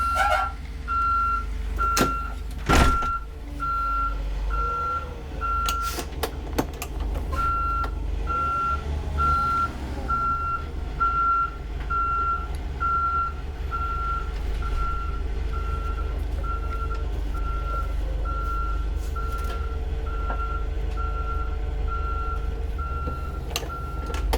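A bus backing out of a parking spot sounds a steady, evenly spaced series of reversing beeps over a deep idling engine rumble, with a few sharp knocks early on and no talk.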